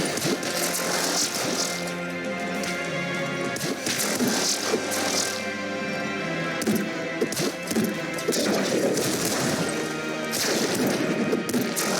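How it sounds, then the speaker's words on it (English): Rapid gunfire from an assault slugger in a shooter video game, dense repeated blasts layered over game music and effects, loud and continuous across the whole stretch. "I shot the assault slugger"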